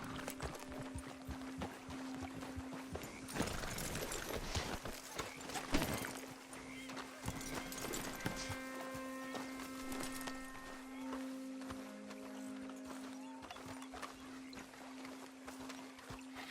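Horse hooves clip-clopping in Red Dead Redemption 2 near a shoreline and boat, a steady soft plodding under a sustained tonal game soundtrack, with a brief louder patch midway.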